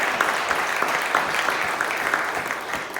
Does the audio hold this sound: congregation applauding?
yes